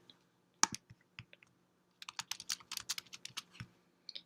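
Someone types a PIN on a computer keyboard, producing faint, scattered key clicks: a few isolated taps first, then a quicker cluster of keystrokes in a quiet room.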